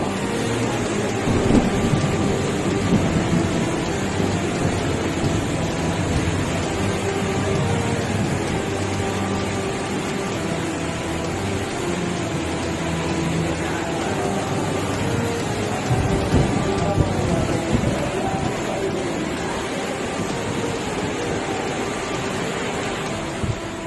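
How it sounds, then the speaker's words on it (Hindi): Torrential monsoon rain pours down in the mountains near Rishikesh, a dense, continuous roar of heavy rainfall with low rumbles of thunder rolling underneath, loud and unbroken throughout. "पहाड़ों में हो रही मूसलाधार बारिश"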